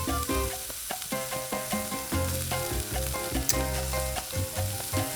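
Onions and peppers sizzle loudly on a Blackstone 22-inch griddle, a steady crackling fry broken by frequent sharp scraping clicks of a spatula, with no one talking.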